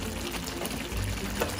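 Water poured into a simmering Indian chicken curry broth, a steady close splashing gush with a fuller swell near the middle, alone without talk.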